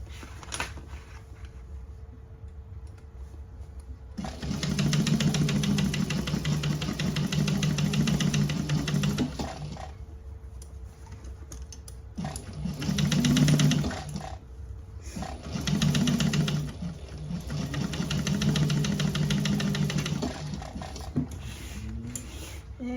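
A sewing machine stitching a tote bag runs in several whirring bursts of varying length, separated by quieter pauses, close by.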